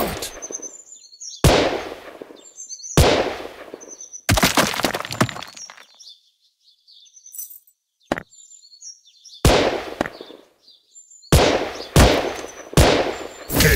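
Gun Sprint game headshots crack out as about eight or nine loud, sharp gunshot bursts, spaced irregularly with brief quiet gaps between them, each ending in a short ringing tail.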